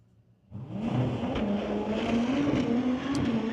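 1963 Ford Falcon Super Shifter drag car launching at an NHRA Summit ET series race, the engine bursting in abruptly from near silence into a loud, sustained roar with a steady droning pitch and no voices.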